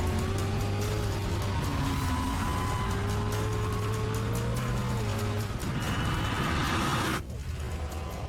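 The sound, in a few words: Tesla and Cadillac cars racing on a track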